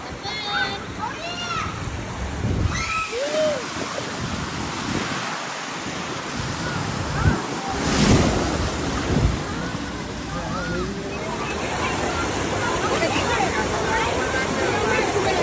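Waves churn and splash in the wave pool at Hurricane Bay water park, a steady roar of surf close by, with excited voices of swimmers talking over the water throughout.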